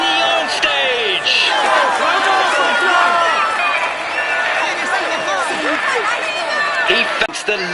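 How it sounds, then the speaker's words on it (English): A crowd cheers and shouts for a stage winner at the Tour de France cycling game finish in Carcassonne, a dense, loud, continuous roar of many voices with whistles. "Ladies and gentlemen, applaud him loudly."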